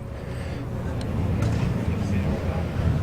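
A Triumph TR6's 2.5-litre engine running steadily with a low, throaty rumble, heard from inside the moving car with the roof down amid road noise.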